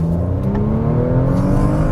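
A 2020 Audi RS estate pulls hard away from a junction in second gear on a wet road, engine note rising steadily under heavy, loud acceleration heard from inside the cabin.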